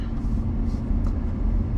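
Truck engine idling at a scrap pickup site, a steady low rumble that stays constant and moderately loud with no voices over it.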